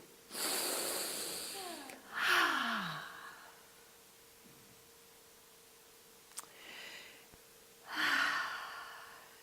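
A group breathes together before a prayer, several long audible breaths and sighing exhales rising and falling with quiet pauses between them, close and soft.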